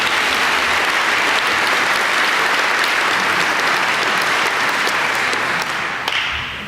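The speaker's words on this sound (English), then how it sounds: "Let's give her a round of applause" A room full of people at a Fulton County meeting breaks into sustained, loud applause that continues evenly and tapers slightly at the end.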